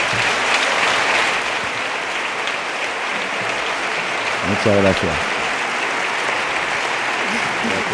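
An audience at a bullfighting festival proclamation in Albacete gives a sustained ovation, steady dense applause filling the hall throughout, while someone speaks briefly over it.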